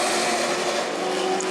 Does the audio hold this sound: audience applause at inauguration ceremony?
no